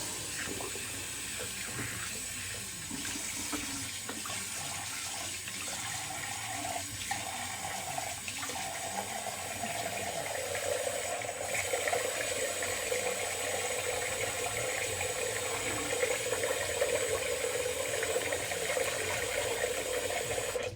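Water running from a tap into a sink during a wet shave, a steady hiss and splash that grows slightly fuller as the basin fills, close and continuous with no voices.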